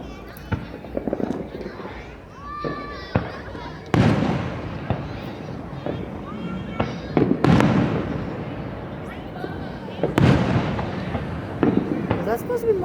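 Fourth of July fireworks bursting overhead at a town display, a series of booms, crackles and pops at irregular intervals, some loud and close, under ongoing chatter from onlookers.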